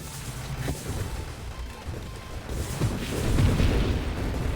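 Nonstop explosions in the space shooter Nova Drift, a steady barrage of low booms and pops piling up and swelling louder toward the end, with no voices.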